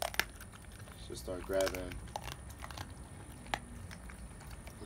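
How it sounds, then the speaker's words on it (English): A dog eating raw chicken feet as part of a raw diet, with irregular crunching and biting of bones close by, broken into bursts and mostly sitting under a person talking. "You're very crunching the bones."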